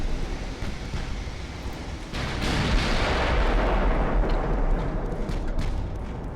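Naval guns fire in the Ultimate Admiral: Dreadnoughts battle game as a heavy, continuous rumble of booms and shell bursts, loud and close, swelling partway through and rolling on without a break.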